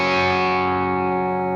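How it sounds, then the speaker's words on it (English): Electric guitar played through a distortion pedal, one sustained chord ringing loud and thick with dense saturated overtones, slowly decaying over a second and a half with no talk. "something I look for in a distortion pedal"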